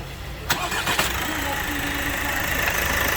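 A 1.6-litre 136 hp diesel engine in an Opel Astra J runs steadily nearby with a continuous hum. A couple of sharp knocks come near the start, and a voice is heard over the engine.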